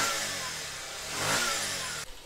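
A Bajaj Pulsar BS4 motorcycle engine revs loudly and close up just after starting, rising and surging in a steady run before the throttle drops off abruptly near the end.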